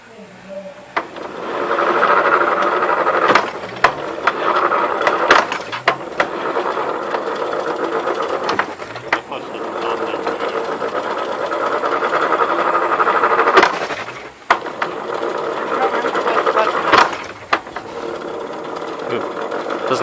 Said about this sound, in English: Transmission makes a lot of noise.